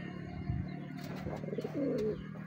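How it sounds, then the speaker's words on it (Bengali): Pigeons in a loft coo and scuffle with one another, soft low throaty calls mixed with brief flutters and rustles, fairly quiet and close. "কবুতরগুলো ঝগড়া লেগে দিচ্ছে সবগুলো কবুতর"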